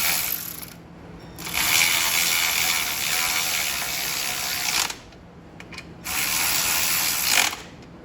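A hand ratchet snugging motor mount bolts during an engine conversion, clicking in two long loud bursts of rapid pawl ticks separated by a quiet pause, close and alone.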